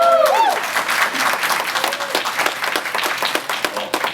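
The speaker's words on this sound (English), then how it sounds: "Thank you for your applause" An audience applauds at a Young Democrats state conference in Hawaii, dense steady clapping filling the room at close range, with a voice briefly heard at the start.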